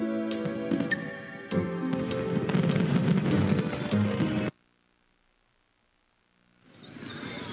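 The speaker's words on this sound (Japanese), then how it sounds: "高いところから見る花火も捨てたもんじゃない" Fireworks in the video game Tokimeki Memorial Girl's Side 2nd Kiss boom and crackle continuously with ringing tones, then cut to silence before another swell of sound rises.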